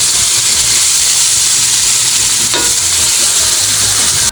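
Bangus with bacon sizzles and is stirred in a pan, a loud, steady frying hiss with a brief scrape of the utensil midway, close and without talk.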